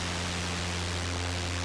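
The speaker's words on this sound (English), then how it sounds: "you can change the color of the noise." Noise generator of a Korg ARP 2600 synthesizer: a steady, dense broadband hiss with a low hum underneath, continuous and fairly loud, with no other sounds.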